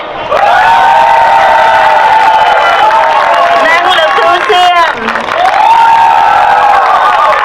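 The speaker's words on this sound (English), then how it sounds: "please give a round of applause" An audience at a Khmer New Year festival in Maryland bursts into loud, sustained applause and cheering with whoops, while a voice speaks over the crowd.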